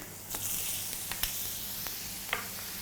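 Butter sizzling in a hot pan beside a seared rib-eye steak, a steady broadband fizz with a few sharp crackles and pops scattered through it, close up and without talk.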